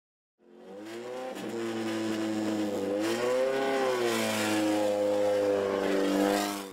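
An open-wheel race car engine screams at high revs, its pitch rising and dipping through gear changes, loud and close with no talk.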